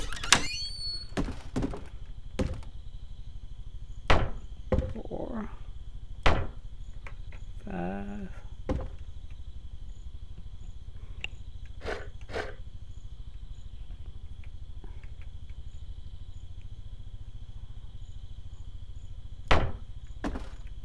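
Sharp, isolated hammer strikes knock thatch into place in the medieval building game Medieval Engineers, spaced irregularly at close range, with a faint insect-like background chirp and brief scraping sounds between blows.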